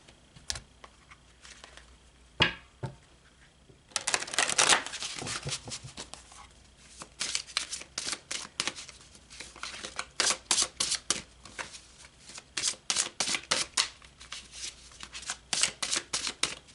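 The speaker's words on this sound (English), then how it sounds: "Let's pull some more cards." Tarot cards being shuffled by hand: a few isolated snaps at first, then long runs of rapid, riffling card flutter close to the microphone, coming in repeated bursts with brief pauses between them.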